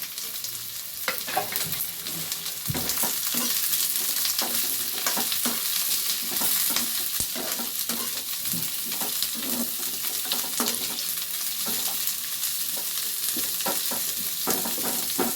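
Egg chops fry in a pan on low heat, with a steady broadband sizzle throughout and repeated scraping clicks as they are stirred, close and continuous, with no voices.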